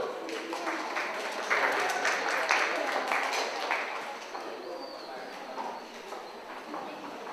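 Audience at a knowledge-based urban innovation conference applauding a raffle winner, a moderate wash of scattered clapping that swells then gradually thins out, heard at some distance in a hall.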